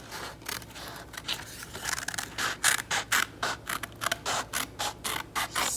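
Scissors snip through a tattoo sheet, trimming it to size for a resin tumbler, with close, crisp cuts in quick bursts, some rhythmic runs of short snips near the end, and no talking.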